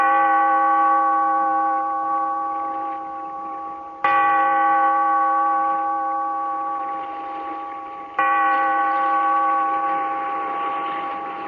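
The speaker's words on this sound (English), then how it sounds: "Bellkeeper, toll the bell, so that all may know we are gathered again in the weird circle." A deep bell tolls three times at even intervals for an old radio drama. Each strike rings out loud and clear, then hums slowly away before the next one.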